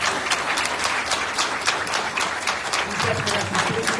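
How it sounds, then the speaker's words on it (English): Audience at a panel conversation on Black men and mental health clapping, dense sustained applause from a room full of people, close and loud with a voice briefly underneath. "will you please give our panelists a round of applause?"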